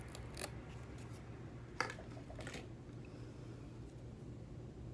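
Scissors snipping a strip of false eyelashes, giving a few faint, close, crisp cuts, including a sharper snip near the middle, over a steady background hum.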